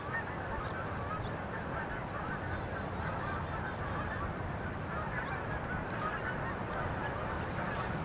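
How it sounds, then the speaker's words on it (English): A flock of geese honking outdoors, a steady wash of many overlapping calls at moderate distance that keeps going for the whole stretch, with no talking over it. "Here comes a flock of geese."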